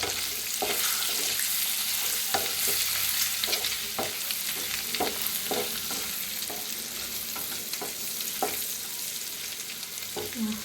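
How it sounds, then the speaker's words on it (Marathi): Boiled eggs fry in a pan of red chilli masala for egg masala, giving a steady close sizzle with repeated scraping stirs of a spatula at irregular intervals throughout, with no talking. "फ्राय करून घ्यायचे अंडी।"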